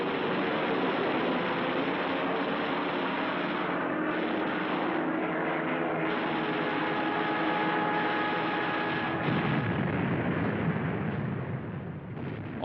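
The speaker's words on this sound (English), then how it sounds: "The Americans then proceeded to strafe the airfields" Aircraft strafing airfields, fuel dumps and small vessels in a WWII attack sound effect, a dense loud roar of engines and gunfire with rumbling bursts that holds steady before fading at the end.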